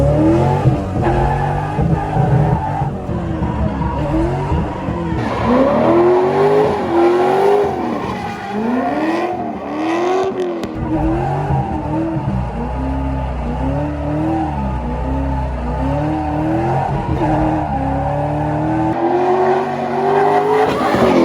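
A C6 Corvette Z06 street drifting, its engine revving hard while the tires skid and squeal continuously, loud and close for over twenty seconds with wavering pitch as the car slides.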